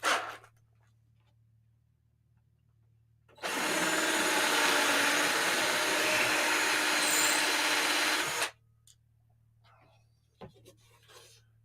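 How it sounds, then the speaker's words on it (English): A power drill whirs loudly and steadily for about five seconds, then stops, leaving quiet room noise with a few faint knocks. "So I'm going to drill these out."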